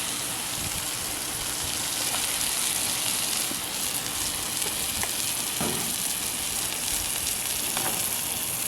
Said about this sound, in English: Add some oil to it. I'm gonna put these mushrooms on.